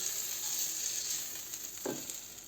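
Cabbage fritters sizzle in a hot frying pan with a steady, soft frying hiss, and a brief scrape or stir cuts in near the end. No one speaks.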